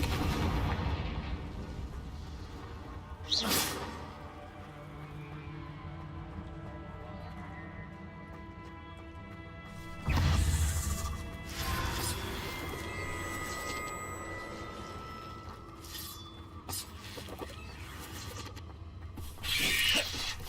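Confringo blasting spell explosions in Hogwarts Legacy, a few sharp bursts spaced apart over a sustained musical game backdrop, moderately loud.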